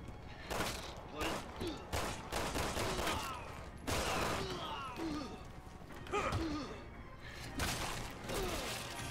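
Gunfire in the video game Resident Evil 6, a run of sharp shots in uneven bursts across the clip, loud and close, mixed with game sounds and with someone talking over it.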